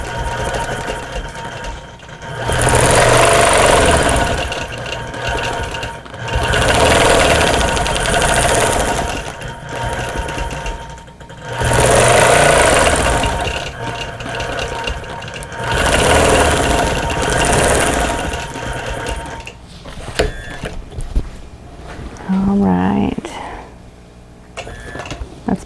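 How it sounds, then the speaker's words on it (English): A home sewing machine stitches straight-line quilting on a Christmas cottage quilt, running in several loud, steady bursts of a few seconds each with pauses between, then quieter handling toward the end. "I'm going to do some quilting here in the door, and I'm just going to do some straight line quilting."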